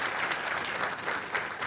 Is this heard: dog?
no